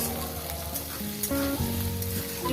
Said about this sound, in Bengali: সুন্দর করে পেঁয়াজটাকে লাল লাল করে ভেজে নেবো